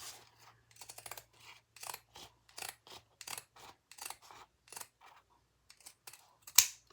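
Pinking shears snip through bag fabric in a quick series of short, crisp cuts, about a dozen in a row, close and quiet with brief pauses between strokes.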